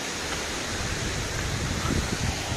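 A river and waterfall at a campsite in Neora Valley National Park rush steadily, a dense, even roar of water that is loud and unbroken throughout, with no voices.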